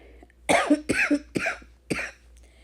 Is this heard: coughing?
yes